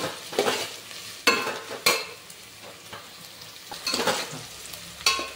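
Onions fry in hot oil for chicken biryani, a steady sizzle broken by repeated scraping strokes of a spoon against the pan as they are stirred, close and moderately loud.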